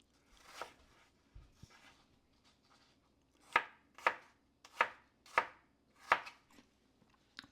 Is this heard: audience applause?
no